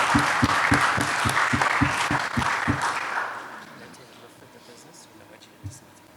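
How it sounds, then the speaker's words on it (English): Audience at a business forum applauds with dense clapping and rhythmic group claps that fade out after about three seconds, leaving quiet room tone. "You can give yourself a round of applause."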